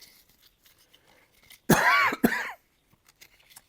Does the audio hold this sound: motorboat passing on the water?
no